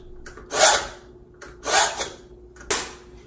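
A 9-inch fillet knife is drawn through a sharpener in three distinct rasping strokes, close and loud, with quiet pauses between them.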